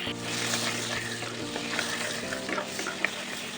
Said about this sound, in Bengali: বাটারটা হালকা একটু মেল্ট হলে দিয়ে দেবো কালো জিরে পরিমাণ মতো